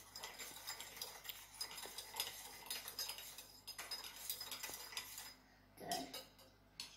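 A metal spoon stirs homemade lemonade in a container, giving continuous clinking and scraping against the sides for several seconds, fairly close and steady, with a brief pause near the end.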